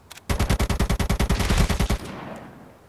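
Rapid burst of automatic gunfire from the mobile shooter game ZOZ: Final Hour, about a dozen loud evenly spaced shots in quick succession, then a short fading tail.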